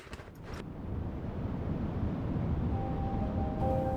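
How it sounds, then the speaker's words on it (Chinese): A wind sound effect, a low roaring gust that rises and holds steady, broad and surf-like, with a faint tone entering near the end. "一阵风"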